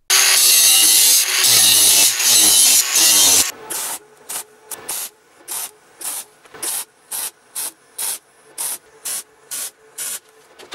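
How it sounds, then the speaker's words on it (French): Hand saw cutting a series of kerfs into a curved wooden furniture piece: a long rasping burst at first, then about eleven short, evenly spaced strokes, close and loud with no talking. "je vais continuer à faire des traits de scie, ce qui me vaudra de devoir recommencer cette pièce-là"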